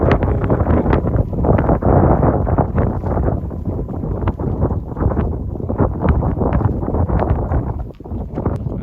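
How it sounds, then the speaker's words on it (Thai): Strong wind buffets the microphone in loud, continuous rumbling gusts at a viewpoint by the Golden Gate Bridge, San Francisco, a rough roar filling the whole stretch with no speech. "ลมแรงดีขนาดพุ่น"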